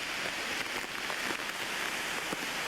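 Heavy rain from Hurricane Bob in 1991 pours down in a dense, continuous hiss, loud and steady throughout with no voices.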